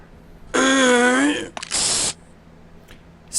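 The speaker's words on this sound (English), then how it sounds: "Spray paint" Spray paint from the video game Payday 2: a tonal rattle-like burst followed by a short hissing spray, then a brief faint hiss, two separate close bursts with quiet gaps.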